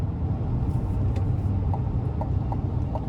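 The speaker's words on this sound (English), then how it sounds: "great pickup from the turbo diesel, of course" A 2025 GMC Sierra 2500HD AT4 pickup with a Duramax turbo diesel V8 pulls under acceleration, heard from inside the cab as a steady, dense low rumble with no talk.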